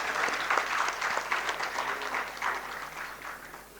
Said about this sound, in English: I request all of you to give a clap for these achievements.